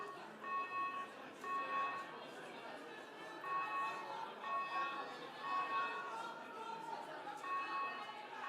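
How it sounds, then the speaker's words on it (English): A building fire alarm goes off at a genomics summit, repeating tonal beeps in short bursts about once a second, somewhat distant under the murmur of a chattering crowd. "We're unaware that the alarm was going off, so we're not sure if we need to exit the building or not."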